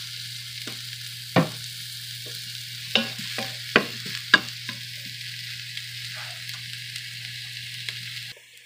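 Cabbage fries in oil in a pan with a steady close sizzle, broken by a few sharp clinks and scrapes of stirring, with no talking.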